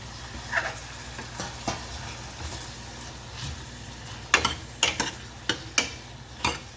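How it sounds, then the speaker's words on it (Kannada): Tomatoes fry in a pan for a coconut bajji saaru, giving a soft, steady sizzle with sharp utensil scrapes and taps from stirring that grow louder and more frequent toward the end. "ನಾನು ಟೊಮೊಟೊನು ಫ್ರೈ ಮಾಡ್ಕೊಳ್ಳಿಕ್ಕೆ ಹಾಕ್ಕೋತಾ ಇದ್ದೀನಿ."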